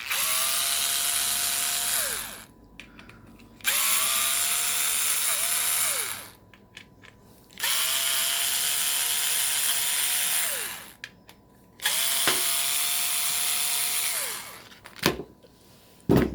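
A power drill backs out the four screws holding the base plate of a Porter-Cable/Rockwell 330 Speed Bloc sander, running in four loud whining bursts of about two seconds each, with short pauses and tool clatter between them.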